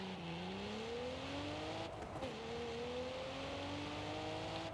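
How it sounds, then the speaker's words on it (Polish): Cadillac CT4-V launching from a standstill with launch control in Forza Horizon 5, its engine note climbing steadily through rising revs with a brief shift dip midway, loud and continuous with no talk. "najpierw test z 0 do 100 z launch controlem"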